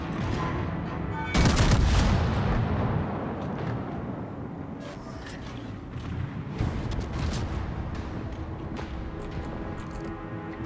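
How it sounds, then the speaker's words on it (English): Naval guns boom from warships in World of Warships, with a loud heavy salvo early on and scattered thuds and blasts rolling through a dense battle din. "This is so cool watching all of them fire."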